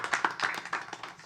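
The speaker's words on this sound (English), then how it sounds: "I like to give him a round of applause for even coming up with this." Brief scattered clapping from a small group at a committee meeting, a handful of uneven, fairly quiet claps over little more than a second.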